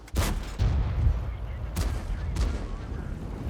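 In World of Tanks, FV4202 tank cannon shots thud loudly, one heavy boom at the start and more booms later, with a rumbling engine underneath and muffled crackling in between.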